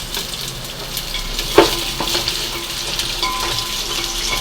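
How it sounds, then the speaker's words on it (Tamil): Steady crackling sizzle of onions frying golden in ghee in a pan, with an occasional scrape of stirring and a clink of utensils. "4 வெங்காயத்தை பொன்னிறமாக நல்லா வறுத்துக்கிடுவோம்"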